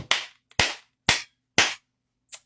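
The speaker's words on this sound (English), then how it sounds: "Let's get a slow clap in the back" Four slow, evenly spaced single claps ring out sharply in a quiet room, each about half a second apart, followed by a softer, fainter fifth clap.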